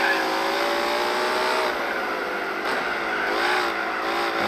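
A V12 race car engine in Gran Turismo 4 drones steadily and loudly throughout, its tone rising and falling slightly with throttle, under light game-style background noise.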